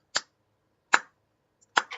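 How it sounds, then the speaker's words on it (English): Three slow, sharp claps ring out alone in quiet, spaced under a second apart, the last followed by a quick softer echo-like clap. "You hear this very slow clap."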